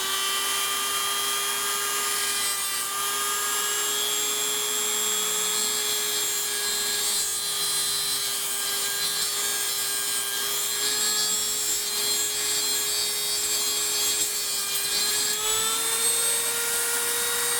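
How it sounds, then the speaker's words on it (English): An electric grinder cutting a flat spot for set screws on a metal part while building a Matt Chapman Eagle 580, a steady high motor whine that dips in pitch several times as the tool bites under load, close and continuous. "So we're going to go in here and grind that just a little bit."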